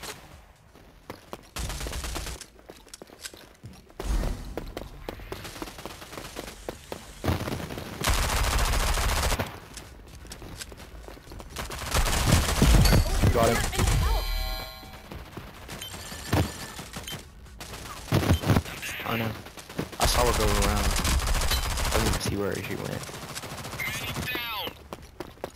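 Video game gunfire crackles in repeated bursts of rapid automatic shots and fusillades, some loud and close, others fainter, with quiet gaps between, while a player talks over parts of it.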